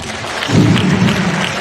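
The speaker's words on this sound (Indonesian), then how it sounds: "Boleh tepuk tangan dulu biar gak ngantuk" Brief burst of audience clapping at a public speaking session with school students, a short dense rumble of hands swelling and then holding steady.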